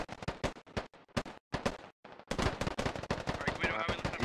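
A video game firefight with gunfire and mortars: rapid bursts of shots crack in quick clusters with short gaps, then build into dense, continuous fire.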